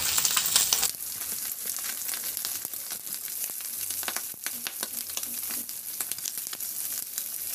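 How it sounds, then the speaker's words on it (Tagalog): Garlic frying in rendered pork belly fat in a kawali, a loud close continuous sizzle and crackle with scattered stirring clicks, steady throughout with no voices. "Ilagay ko lang sa gilid ng ating kawali at igisa ko na rin yung bawang."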